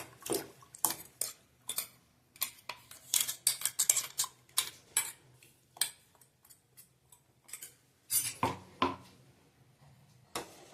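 A spoon clinks and scrapes irregularly against a pot while ground rice is mixed into hot milk for rice kheer, the taps quiet and close with silent gaps between them.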